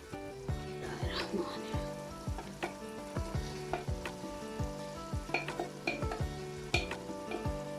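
Fried capsicum and carrots sizzle in a hot pan while a utensil stirs and scrapes repeatedly, with intermittent clinks against the pan.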